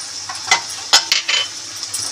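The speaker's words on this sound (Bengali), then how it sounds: "একটুখানি নাড়িয়ে দিলাম" A spatula scrapes and clinks a few times in a pan of fish-head and vegetable chhyachra with Malabar spinach, sharp close strokes over a soft, steady sizzle.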